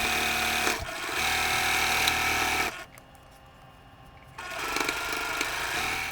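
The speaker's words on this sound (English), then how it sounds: "You will sew on a sashing strip for the first 5 blocks of the 6 in the row." A sewing machine stitches sashing strips onto quilt blocks, a loud, close, continuous motor whir that stops briefly for a pause and then starts again.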